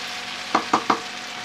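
Mushroom and okra (bhindi) stir-fry in a pan, heard as three quick stirring scrapes and sizzles spaced evenly over a steady low frying hiss, close and moderate in level.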